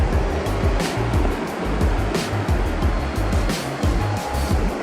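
Waves on a rocky beach in Ambon, a steady loud rushing roar of surf with rumbling low swells, continuous and close with no speech.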